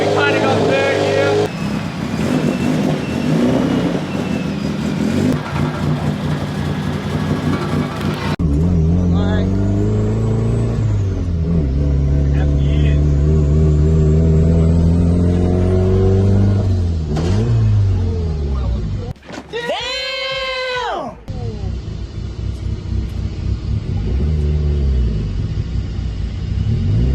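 A 400 hp Nissan S13 drift car at a drift festival revs up through first and second gear with a loud, close engine roar, then a brief harsh squeal and rougher running, while a voice talks over parts of it.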